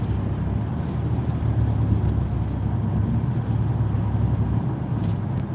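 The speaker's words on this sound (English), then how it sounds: "That truck is hauling, that big truck." A big truck hauling a heavy load rumbles along the road nearby, a steady low engine and tyre drone heard from inside a moving car.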